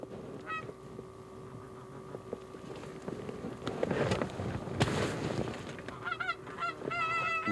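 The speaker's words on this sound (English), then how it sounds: "one goose appears over the horizon and heads for our decoys" A single wild goose honks repeatedly as it flies in toward a spread of decoys, the calls growing louder and more frequent near the end, over faint wind noise outdoors in winter.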